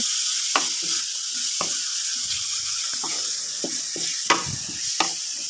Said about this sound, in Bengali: লবণটা দিয়ে আবারও ভালোভাবে নেড়ে চেড়ে নেওয়া হচ্ছে।